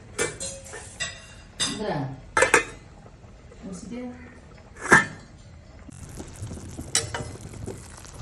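A lid is set down on a pot of drumstick (murungai) kootu, giving a few metallic clinks and clanks among other kitchen clatter, close and moderately loud, with a voice speaking briefly.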